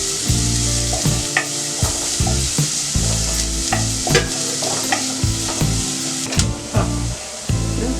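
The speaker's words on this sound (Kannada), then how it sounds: "ಮೀಡಿಯಂ ಫ್ಲೇಮಲ್ಲಿಟ್ಟು ಫ್ರೈ ಮಾಡ್ಕೊಳ್ಳಿ" Bread pakoda and onion frying in oil over a medium flame: a loud, steady sizzle with rhythmic scraping and stirring strokes and occasional clinks, no talk.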